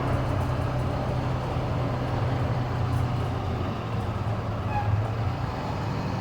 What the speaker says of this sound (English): this bus has a side pipe, and it sounds good